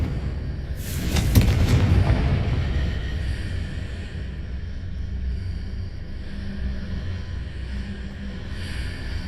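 Confringo blasting-curse explosion in Hogwarts Legacy, a loud bright burst that rises into a deep rumbling boom early on and then fades into a low lingering ambient hum.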